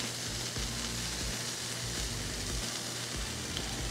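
Sliced Hatch green chilies and shaved corn kernels sizzle on a hot Pit Boss griddle, a steady close hiss and crackle that runs evenly throughout with no voices.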